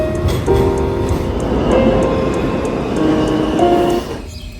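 A delayed commuter train rumbles steadily on the rails, with a few brief tonal squeals and hums rising over the broad, loud running noise before it quietens near the end.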